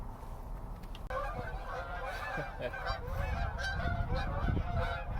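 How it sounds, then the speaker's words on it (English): Many geese honk over and over in a noisy, overlapping chorus, their nasal calls rising and falling at a moderate distance. "That's a lot of geese."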